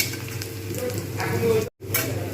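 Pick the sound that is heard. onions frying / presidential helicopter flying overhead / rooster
onions frying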